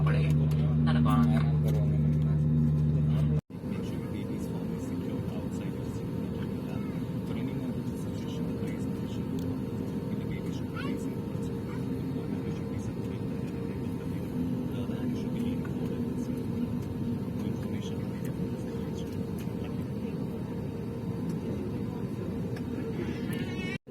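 Air India Express passenger jet cabin during takeoff from Madurai Airport: a steady, broad engine roar and rushing hum that holds evenly throughout after an abrupt shift near the start, with a voice speaking at the beginning.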